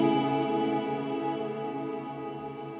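A Boss RV6 reverb pedal shapes a sustained, steady guitar tone with rich harmonics, the reverb tail slowly decaying over a few seconds, clear and alone with no talking.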